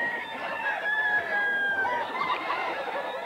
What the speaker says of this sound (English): He farms cockerels for their spurs.